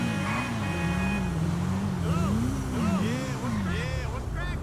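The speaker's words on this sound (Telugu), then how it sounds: "ఇప్పుడు మైకేల్ బైక్ ని ఫ్రాంక్లిన్ డ్రైవ్ చేస్తున్నాడు" A motorbike engine in the GTA 5 video game revs up and down in repeated rising and falling sweeps over a constant drone, loud and close, with no talking.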